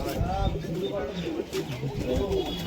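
Pakistani Banka pigeons cooing in low, rolling phrases under a steady background hum, with soft overlapping coos from several birds at close range.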